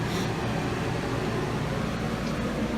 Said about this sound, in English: As you can hear, I've got the air conditioner running.